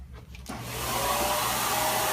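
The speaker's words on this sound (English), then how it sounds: "One thing I will do before I put this back in is to vacuum the inside real quick." Vacuum cleaner switched on inside an open clothes dryer to suck out lint buildup during an idler pulley and belt repair, a close motor whine rising to a steady loud roar, no talk.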